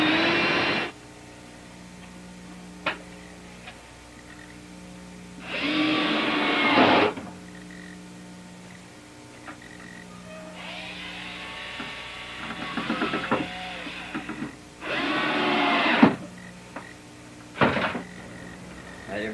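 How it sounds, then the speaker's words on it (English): Screws being driven into a wooden boat deck with a power driver, heard as several whirring bursts of a few seconds each, separated by quieter pauses in a workshop. "Now we put the screws in, you go, so you're hitting half the center of your deck."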